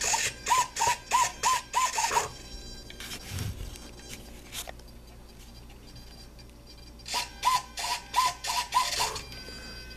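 Small servos on an RC conversion of a Guillows Bf109 model airplane drive the ailerons back and forth in two quick bursts of five or six short whirring pulses, separated by quieter handling noise.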